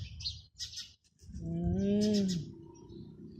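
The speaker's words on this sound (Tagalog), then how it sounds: "Look at the birds." Birds chirping in a backyard in Abu Dhabi, with short bright tweets early on, then a longer, louder call or coo in the middle. They sound fairly close, and there is low ambient rumble but no talk.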